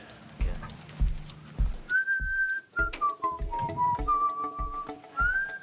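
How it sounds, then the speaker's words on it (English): A man whistles a slow, wavering tune over several rhythmic thuds like hoofbeats, fairly close and clear. "This situation, he's whistling."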